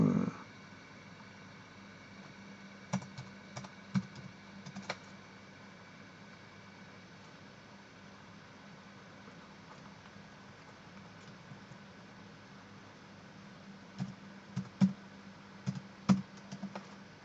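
Keyboard keys tapped in short, faint clusters during a physics calorimetry calculation on melting lead, quiet clicks over a steady low hum with long pauses between bursts.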